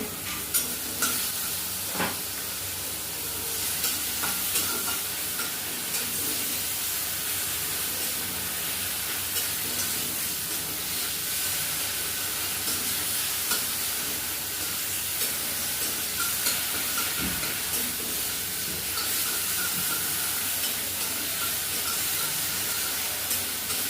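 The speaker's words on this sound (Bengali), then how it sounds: "আদাটা ভেজে নিয়ে টমেটো কুচি দিয়ে ভেজে নিয়ে একটু জল দিচ্ছি" Ginger and chopped tomato frying in a pan for a bottle gourd curry, a steady close sizzle and hiss with occasional stirring scrapes, continuous and without speech.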